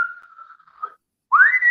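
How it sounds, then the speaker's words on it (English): Clear, piercing whistling: one sustained steady tone, a brief pause, then a rising whistle that holds high, alone without talk. "that whistling is so loud, it's almost deafening now"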